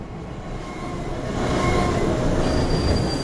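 A train rolls past in the horror video game Underhell, its rumble building into a loud, close roar with a high wheel squeal running over the top.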